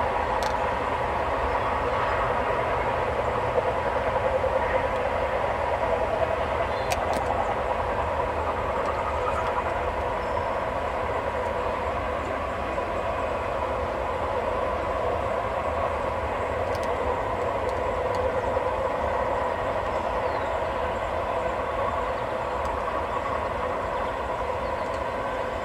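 CP stack freight train pulled by two GE ES44AC locomotives, one in 2010 Olympic livery, with auto racks at the rear, rolls past steadily with continuous rumble and rail noise throughout, fairly loud and close.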